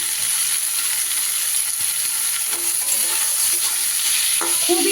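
Onions sizzle steadily in a hot pan, a constant loud hiss with occasional scraping as they are stirred.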